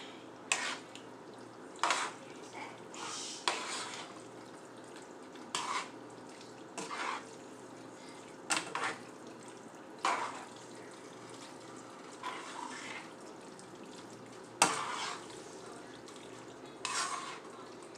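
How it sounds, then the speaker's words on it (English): Noodles and Alfredo sauce with shrimp being stirred together in a pan, giving soft wet scraping and clinking strokes at irregular intervals over a faint steady background, no voices. "we're going to go ahead and stir our noodles and sauce together"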